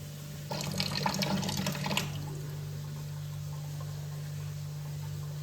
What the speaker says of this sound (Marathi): आता ह्याच्यात थोडंसं पाणी घालतो